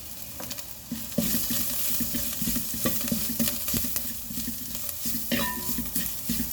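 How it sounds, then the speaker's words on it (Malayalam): Onion, ginger and curry leaves fry in a pan for a fish head curry, sizzling steadily under repeated stirring and scraping of a utensil against the pan, close up with no talking. "ഉള്ളി ഇഞ്ചി കരിയാപ്പിലയും മൂത്ത് ഇച്ചിരി മഞ്ഞൾ പൊടി ഇട്ട് കൊടുക്കാം"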